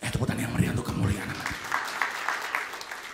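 Church congregation applause during a sermon by a pastor, a broad rolling wash of many hands clapping, with a voice speaking over the first part before the clapping continues alone.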